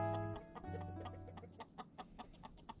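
A few hens cluck softly nearby in a yard alongside geese and goats, in short, irregular bursts, with one higher squawk early on; quiet overall, no talking.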